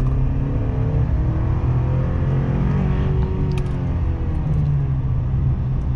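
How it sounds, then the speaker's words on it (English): A turbocharged 4-cylinder engine in a 2024 Chevrolet Silverado 1500 drives down the road, its steady low drone and whirring turbo heard from inside the cab, rising slightly in pitch midway. "You definitely hear all of the turbo, all of the engine, all the time."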